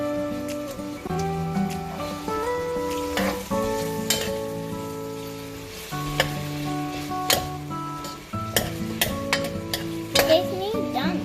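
Onion and garlic frying in a pan for chicken curry, with a steady sizzle under repeated stirring and scraping clatter, close and fairly loud throughout.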